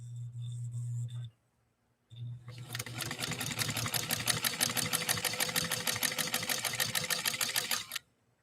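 Domestic Model 153 sewing machine stitching at stitch-length setting 8: a rapid, steady mechanical clatter running for several seconds close up, after a brief low hum and a pause, ending abruptly.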